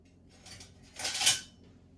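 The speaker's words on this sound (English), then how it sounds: "You whisk these together." A whisk clatters briefly against a mixing bowl as baking ingredients are beaten together, a short burst of scraping metallic clinks near the mic, with no one talking.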